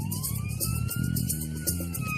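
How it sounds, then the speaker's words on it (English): An ambulance siren sounds on a hill road during a driving challenge, its wailing tone held steadily throughout at close range over rumbling vehicle noise. "I think the ambulance can get by."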